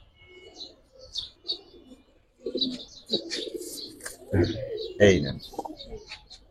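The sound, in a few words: pigeons cooing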